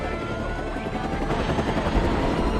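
A helicopter's rotor thumps and whirs continuously, loud and close, with a steady dense roar throughout.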